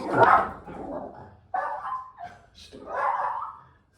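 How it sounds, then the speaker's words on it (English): A neighbour's dog gives a few loud, close barks and yelps in quick succession, three or four separate bursts over a few seconds with short gaps between them. "This neighbour's dog's barking, so I always have got a bark."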